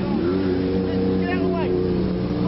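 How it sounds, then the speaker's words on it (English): An endurance race car pulls into the pits at Anglesey circuit, its engine a steady droning hum heard alongside a public-address commentator's voice. "we have the number 12 machine coming in of Rufix Racing, Dean Smith and Andrew Wythe."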